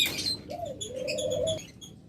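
Pet birds kept as breeding pairs, among them budgerigars, lovebirds and cockatiels, call close by: a few high chirps and then one sustained, rising and falling whistled note, heard alone with no talk.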